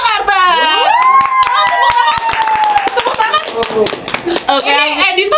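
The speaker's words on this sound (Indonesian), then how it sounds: "Tepuk tangan" Group hand clapping at a lively Indonesian beauty pageant gathering, a dense run of sharp claps over excited voices and high squeals, with talking before and after.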